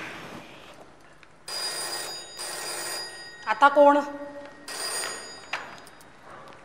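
An old-style telephone bell rings in repeated bursts during a Marathi stage play, close and clear, with actors speaking briefly between the rings.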